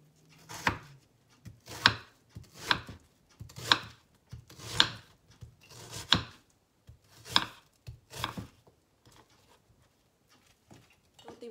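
An onion being chopped with a knife on a board for a tricolour pepper salad: about nine slow, evenly spaced thuds close by, then a few softer taps, with no one talking.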